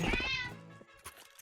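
A cat meows close by: one drawn-out, rising and falling call, followed by quieter short sounds as it trails off.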